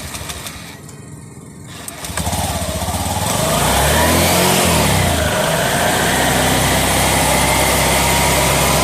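Honda Beat FI scooter engine, which has a clicking noise from its side, starts off quiet and then climbs into a loud, sustained rev that holds steady and close with no talking.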